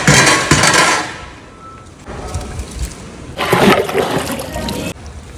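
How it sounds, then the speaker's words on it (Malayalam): Pre-soaked rice is tipped into a big pot of water where chicken has boiled, for a wedding biryani, giving bursts of splashing and trickling water with a quieter lull between two pours. "നേരത്തെ വെള്ളത്തിലിട്ട് വെച്ചിട്ടുള്ള അരി ഇട്ടാ."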